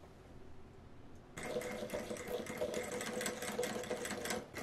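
A sewing machine runs steadily, stitching seams on a chambray shirt with a chain stitch; after a quiet start the close, rapid mechanical whir keeps an even rhythm to the end.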